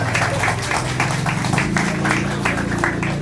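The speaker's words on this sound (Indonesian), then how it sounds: "Tepuk tangan dulu dong, ya." Audience at an Indonesian DPRD Jakarta Commission A gathering applauding, dense rhythmic clapping from many hands, loud and sustained throughout with crowd murmur beneath.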